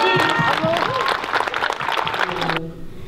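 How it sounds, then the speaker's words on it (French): Audience applause at a school event, a dense burst of clapping mixed with cheering voices that stops abruptly near the end. "Bravo, on vous applaudit."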